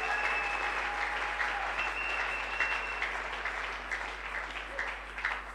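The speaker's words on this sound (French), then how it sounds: "Quelqu'un peut acclamer l'Éternel." A church congregation applauds to acclaim God, a steady wash of many hands clapping that fills the whole stretch without a break, with a few faint voices mixed in underneath.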